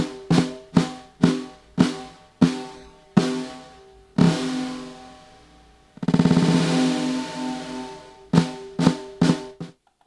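A drum solo, played on a Blackbox sampler, comes as a series of sharp, evenly spaced resonant hits that slow down, then one long sustained crash-like wash, followed by a few more quick strikes.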